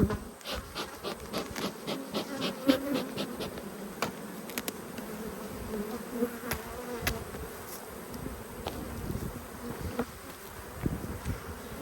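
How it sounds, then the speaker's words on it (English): Many honey bees buzz continuously around the hive at close range, with occasional louder passes and faint rubbing or knocking sounds. "So it looks like there's some bees."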